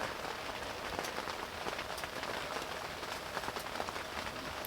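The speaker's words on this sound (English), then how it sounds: "It's raining out now." Rain patters steadily on the fabric of a hot tent with a wood stove during fall camping in Northern Ontario, a dense even hiss of countless drops, soft and continuous with no voices.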